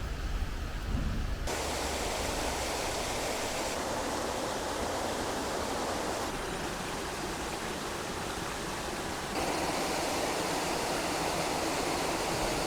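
A waterfall in overgrown countryside gives a steady, full rushing roar of falling water, continuous and fairly close throughout, with a brief low rumble at the very start and no voices.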